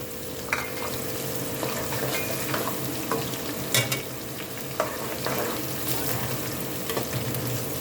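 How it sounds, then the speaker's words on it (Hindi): Onions, garlic and ginger sizzle steadily in a hot pot, with a spoon stirring and scraping in irregular clicks over the constant frying hiss. "और इसको अच्छी तरह हिलाएंगे।"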